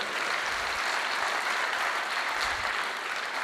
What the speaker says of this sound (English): Let's clap for Roy